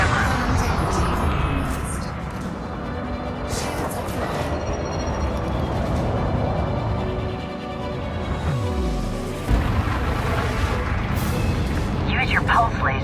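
Pulse lasers fire in rapid bursts from a spaceship in Elite Dangerous, loud and continuous amid rumbling combat noise and sweeping effects, with a voice speaking over it.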